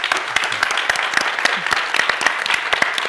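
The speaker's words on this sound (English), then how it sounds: "I wanted to finish giving the speakers a round of applause." Close, loud applause from an audience at a technology and democracy event, with many sharp individual claps standing out in a dense irregular patter, and a few voices mixed in.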